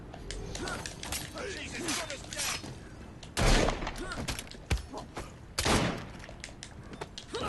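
Gunshots in Assassin's Creed Syndicate, a few loud sharp blasts standing out over busy street-fight clatter and thuds, with someone talking in between.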